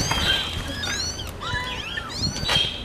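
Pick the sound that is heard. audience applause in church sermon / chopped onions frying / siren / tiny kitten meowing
tiny kitten meowing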